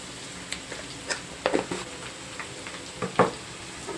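Broad beans fry in hot oil while a spoon stirs them, giving a soft continuous sizzle broken by a few brief scraping stirs, close and moderately quiet with no voices.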